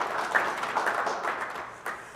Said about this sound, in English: That's a great job, SEMO. Give them a round of applause.